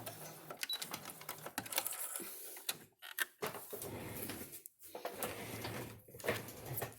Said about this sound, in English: you're going to sew on that line, that first one at least